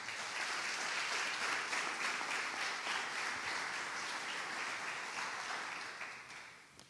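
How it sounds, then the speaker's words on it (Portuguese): A church congregation applauds together in a sustained, even wash of clapping that fills the room for several seconds before fading out at the end. "Será que você pode aplaudir a palavra do Senhor?"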